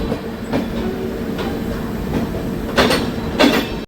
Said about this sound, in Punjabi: ਹੋ ਗਈ ਆਪਣੀ ਟ੍ਰੇਨ ਇਹ ਆ ਖੜੀ ਆ ਇੰਦੌਰ ਐਕਸਪ੍ਰੈਸ